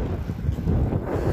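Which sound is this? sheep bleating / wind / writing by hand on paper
wind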